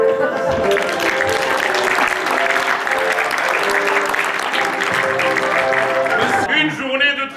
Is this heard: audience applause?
yes